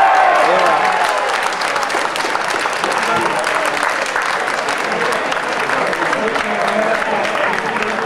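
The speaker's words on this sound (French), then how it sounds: "on l'applaudit, le numéro 9, Steven Papel" Crowd at a football match between Trélissac and Plabennec applauding a goal, dense continuous clapping mixed with cheering voices, loud and steady throughout.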